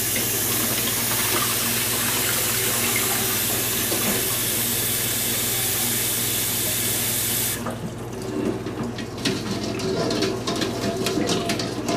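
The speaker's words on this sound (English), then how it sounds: "roll them around a little bit, change the water a couple of times" Tap water runs steadily into a sink over hard-boiled eggs for about eight seconds, then stops, leaving faint drips and handling noises, with pigeons cooing softly in the background.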